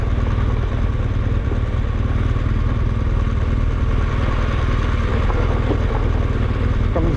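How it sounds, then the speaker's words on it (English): An adventure motorcycle idles as it rolls down a hill, a steady low engine thrum with rattling and clatter, loud and close throughout. "Comes idling down the hill."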